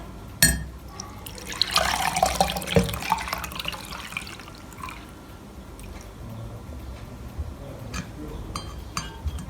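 Evaporated milk strained and poured into a jug in a home kitchen, giving a steady liquid trickle and splash with light clinks of utensils, close and fairly quiet, without talk.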